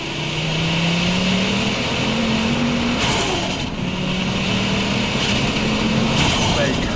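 A 520hp Ford Focus RS Mk2 with a five-cylinder turbo engine on high boost drones steadily with a rising whine, heard from inside the car under people talking.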